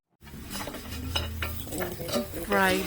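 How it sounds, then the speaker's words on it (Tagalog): Tofu frying in a pan with salt and pepper, a steady sizzle under stirring and clinks of a utensil against cookware, closely recorded with no talking. "Fry the tofu in salt and pepper until golden brown"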